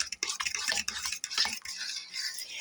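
Rice pudding being stirred in a pot, a brief run of scraping and swishing spoon strokes, close and fairly quiet, with no voices.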